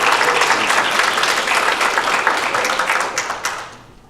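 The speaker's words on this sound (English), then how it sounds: "I'd like everybody to give him a round of applause." Audience applause at a student chapel service, a dense steady wash of many hands clapping close by that holds loud for about four seconds before tapering off at the end.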